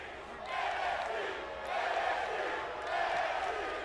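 Wrestling crowd in WWE 2K18 during an NXT match with Dolph Ziggler, rising in swelling waves of cheering and chanting, moderately loud and sustained throughout.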